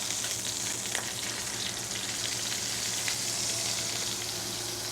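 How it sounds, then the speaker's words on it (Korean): Whole pork belly searing in a pan over medium-high heat, a continuous close crackling sizzle with soft pops, steady and even throughout. "어느 정도 열이 되면 고기를 넣어줘요."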